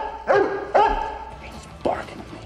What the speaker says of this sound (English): German shepherd starts barking.